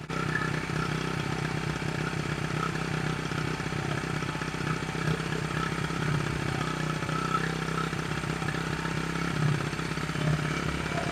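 A Honda XR75 motorcycle engine idling steadily with a fast, even putter and mechanical clatter, close and sustained throughout with slight wavering in pace, no talk.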